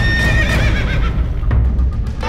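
Aggressive horses fighting at a village fiesta in a remote barangay of Baybay City, Leyte, with loud, close neighs and whinnies rising over a rough bed of noise, hooves and scuffling.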